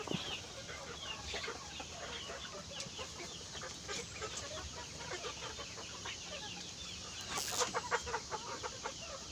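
Breeder chickens cluck repeatedly in a pen, a steady chorus of short calls with a louder burst near the end, no voices over them.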